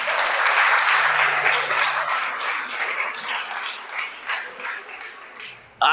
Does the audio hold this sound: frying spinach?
no